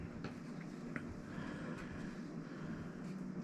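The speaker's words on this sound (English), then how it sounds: "That's an airplane." An airplane flies overhead near the end of a runway, a steady, faint, broadband roar that holds evenly throughout without rising or fading.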